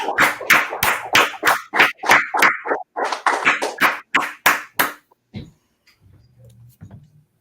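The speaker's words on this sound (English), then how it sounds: "Clap it up." An audience claps in a series of sharp, rhythmic bursts that stop after about five seconds, leaving near silence with faint low rumbling.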